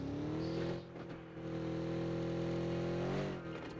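An electric vehicle hums along in PUBG Mobile, a steady tonal whine that holds level and then bends slightly upward near the end, alone without talk.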